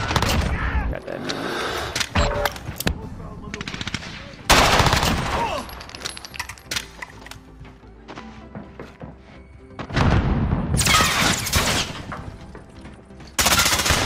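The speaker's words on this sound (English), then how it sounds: "I think teammate shot at me" Bursts of gunfire in a Modern Warfare team deathmatch match: loud automatic volleys and single shots in uneven clusters separated by quieter stretches, with a voice talking at times.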